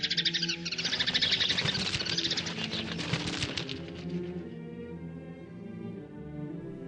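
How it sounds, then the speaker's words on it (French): Sparrows chirp in a busy, dense burst of high twittering for the first few seconds, close and fairly loud, then fade away under a low musical backdrop. "Les foutus moineaux étaient revenus tourner autour de ma tronche."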